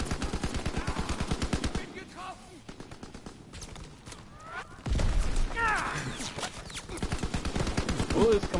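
Rapid automatic gunfire in Call of Duty WW2 rattles in long, loud bursts at the start and end, with a louder boom near the middle and a voice heard between the bursts.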